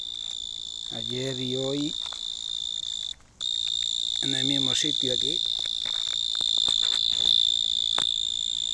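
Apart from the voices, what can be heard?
cricket chirping at night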